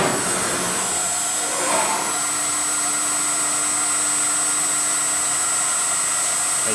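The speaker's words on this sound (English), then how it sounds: "And it's going to go and run the part." Joseph Machine Company Tiger CNC copy router cutting a part profile, a steady loud broadband whine and roar with a faint high tone, running continuously and close without talk.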